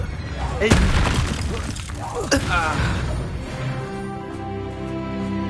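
Spell explosions in the video game Hogwarts Legacy: a couple of sharp booming blasts with crackling bursts, heard under someone shouting spell names, followed by a fading tonal rumble.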